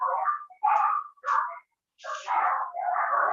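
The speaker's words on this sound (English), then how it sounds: "Dogs are freaking out because my lights." A small dog indoors lets out a few short barks and high whimpering yelps in irregular bursts, separated by brief silent gaps, fairly close and with no talking.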